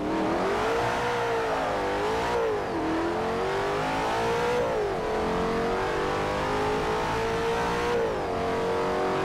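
In the racing game Forza 4, a car engine revs hard and accelerates steadily, its pitch climbing and dropping at gear shifts, loud and continuous with no talk over it.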